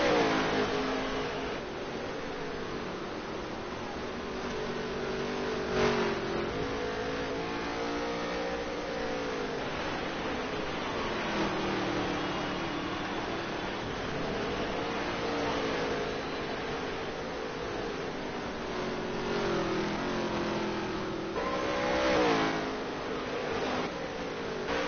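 Dirt track race cars in a NOSSCAR Dirt Touring Series championship race, engines droning and revving steadily as the pack circles, rising and falling in pitch with distant, continuous roar.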